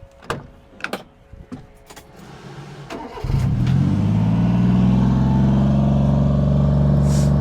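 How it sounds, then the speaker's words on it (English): Kei truck engines, a Subaru Sambar and a Honda Acty, cold starting: a few quiet clicks and thumps, then the engine cranks and catches at about three seconds and settles into a loud, steady idle that runs on without talk. "let's do a cold start so you guys can hear the Sambar and the"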